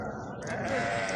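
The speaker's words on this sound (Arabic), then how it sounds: "سوق غنم كركوك." Sheep bleat close by at the Kirkuk livestock market, a drawn-out wavering call over the murmur of a busy crowd, with voices talking in the background.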